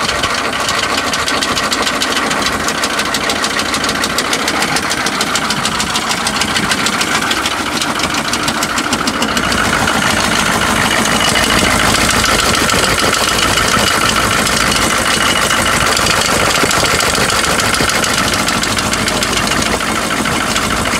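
A 6.5 diesel Suburban idles roughly, its loud, close, continuous clatter and vibration holding steady throughout with no talking.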